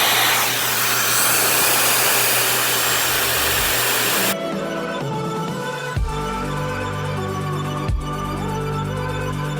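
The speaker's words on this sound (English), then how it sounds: "I'm gonna point the blow dryer down." A handheld blow dryer roars loudly while drying hair, a steady broadband whoosh that then cuts to a much quieter level, leaving faint handling noises and a couple of soft knocks.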